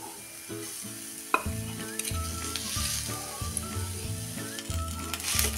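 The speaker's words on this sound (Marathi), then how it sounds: "हा चांगला एकजीव होईपर्यंत परतून घेऊया" Potato stuffing for crispy chilli vadas being stirred and sautéed in a pan, with a steady close sizzle and repeated rhythmic scraping of the spoon against the pan.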